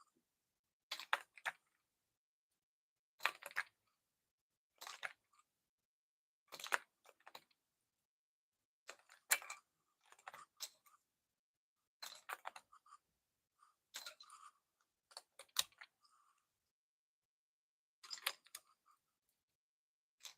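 Typing on a mechanical keyboard before any modding, with short bursts of clacking keystrokes separated by brief pauses, close and fairly quiet, with no talking.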